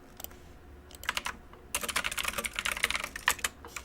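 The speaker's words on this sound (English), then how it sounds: "I need a less clicky keyboard for the chat." Rapid typing on a clicky computer keyboard in a home studio, with a short burst of key clicks, a pause, then a dense run of fast, close keystrokes, with no talking.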